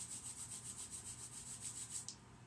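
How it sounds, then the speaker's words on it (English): Palms rubbing briskly together to build warmth and friction, a quiet close rhythmic swishing of skin on skin repeating about twice a second, ending in a brief final rub. "begin to rub the hands together, create a little bit of heat and friction with the hands"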